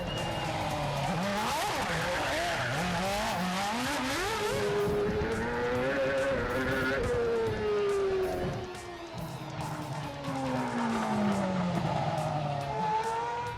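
A Formula One race car on a street circuit around the Kremlin, its high engine note sweeping up and down through gear changes as it passes, loud and continuous with tire squeal.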